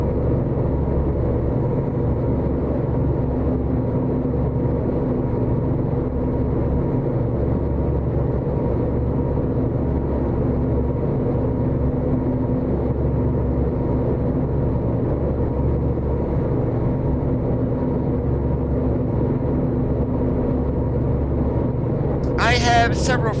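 A truck engine with an 18-speed transmission and 336 rear end gearing in American Truck Simulator drones steadily at a low rumble throughout, loud and close, with a brief higher chirp right at the end.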